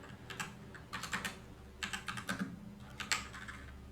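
Someone types an SQL query on a computer keyboard in several short runs of keystrokes with brief gaps between them, close up and without speech.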